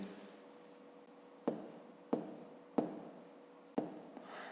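A pen writes on paper while working a fifth-grade long-division maths exercise, soft scratching strokes with four sharp taps as numbers are jotted, quiet and close.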